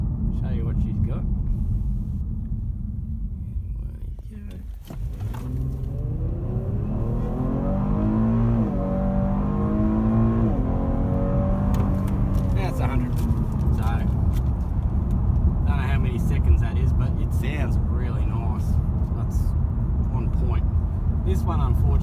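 A 2018 Holden Commodore with a nine-gear transmission accelerates hard, its engine rumble climbing in pitch through a long rising rev from inside the cabin, with a brief voice partway through.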